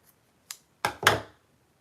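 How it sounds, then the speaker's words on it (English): Scissors snip loose little strings off muslin on a French journal: a faint tick, then a light snip and two louder, close cuts in quick succession, alone with no talk. "it has a bunch of little strings that I just need to trim, which I will do right now"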